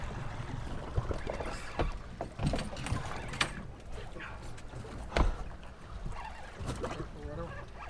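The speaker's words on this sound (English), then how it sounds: "Oh, you turn up the engine there?" A boat engine runs on open water during a king fish outing, a rough churning rumble broken by water splashes and wind buffeting, with people talking nearby.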